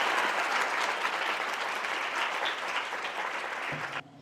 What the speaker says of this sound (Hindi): आइए ऐसे खुदा के लिए हम जोरदार तालियां बजाएं।